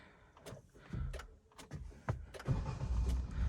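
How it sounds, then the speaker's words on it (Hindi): Maruti Baleno CNG engine cranking and catching as it starts, heard from inside the cabin, with a couple of quieter knocks first and then a low, steady idle hum settling in, fairly faint overall. "अभी कार ऑन हो चुकी है। आप साउंड सुन सकते हैं कितनी क्या साउंड आती है कैबिन के अंदर"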